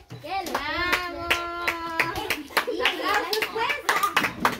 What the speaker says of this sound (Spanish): ¡Aplausos, pues!